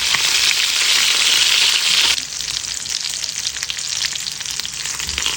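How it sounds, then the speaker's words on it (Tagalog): Fish frying in a pan for a banana-heart vegetable dish, a loud steady sizzle that drops to a softer, crackling fry after about two seconds, with no talk. "Prito muna tayo ng isda para pang partner natin sa ating gulay na lulutuin sa araw na to"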